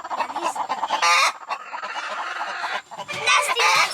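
Broody backyard hens being picked up and handled, giving loud, agitated clucks and squawks in close bursts, with brief rustling between calls.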